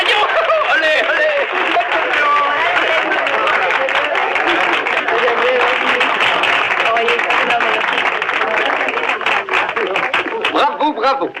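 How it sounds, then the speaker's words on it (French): Studio audience at a radio show applauding, a long steady patter of clapping that runs under a voice speaking throughout. "Notre public a applaudi à tout rompre."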